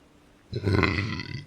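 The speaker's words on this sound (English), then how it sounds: "That was a wonderful burp." A single loud, drawn-out burp from a person close to the microphone, bursting in after a brief quiet moment and rumbling on for about a second.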